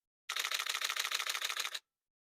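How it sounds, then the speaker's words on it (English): A Nikon D2Hs camera shutter fires in a continuous high-speed burst, a dense, even rattle of rapid clicks lasting about a second and a half, close and clear against silence. "let's just have a listen to that shutter count right now"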